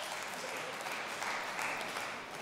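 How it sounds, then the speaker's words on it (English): Scattered applause from an audience at a debate, a steady wash of many hands clapping at moderate distance, fairly quiet and unbroken, with no voices over it. "You're going to clap that? Who clapped that?"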